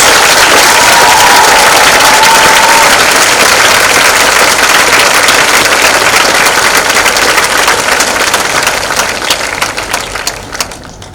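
Loud, sustained applause from a concert audience for the staff of Lamartine Girls College in Lucknow, a dense steady roar of many hands that runs the whole stretch and thins slightly at the very end.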